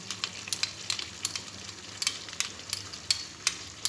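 Chicken gravy with black pepper, red chilli and cream simmers in a pan, a soft steady sizzle broken by close, regular scrapes and clinks of a spoon as it is stirred.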